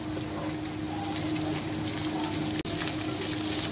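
Boiled, coarsely shredded chicken frying in a pan for pasta, giving a dense, even sizzle that stays steady and close, broken by one brief cut near the end.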